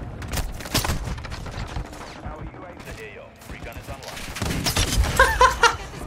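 Mounted gun in Modern Warfare 2 firing loud, rapid bursts in two clusters, near and punchy, with a voice talking over the action.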